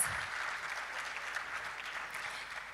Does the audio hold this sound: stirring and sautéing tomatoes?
no